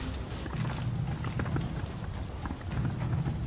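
Horses walking in a Rise of the Ronin game cutscene at a horseback archery practice ground, a soft, steady clip-clop of hooves under a low ambient bed, fairly quiet and without speech.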